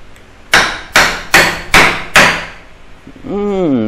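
Five sharp, evenly spaced taps drive a wooden tenon into a tight mortise, close and loud. A brief voice follows at the end.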